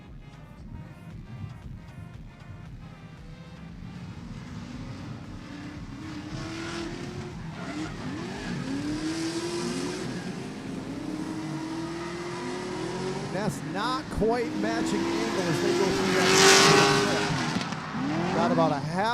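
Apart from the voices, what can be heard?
Z drift cars in tandem drift run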